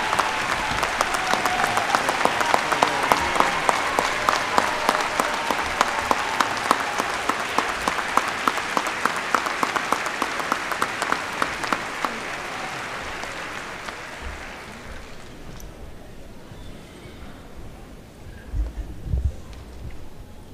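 A commencement audience at Florida A&M University gives sustained applause for a graduate's family, loud and dense for about fifteen seconds before tapering off to quiet room noise with a few faint thumps.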